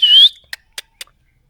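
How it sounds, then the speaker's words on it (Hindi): A pet plum-headed parakeet gives one clear rising whistle lasting about a quarter second, followed by three short, soft chirps spaced evenly apart. The calls are close and sound alone. "देखो अभी भी सीटी मार रहा है"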